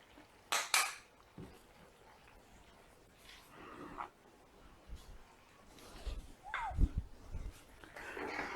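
A utensil stirs chili flakes, chili powder, Italian herbs and paprika in a pan, with scattered metallic scrapes and clinks against the cookware, irregular and close, over a quiet background with soft low thumps.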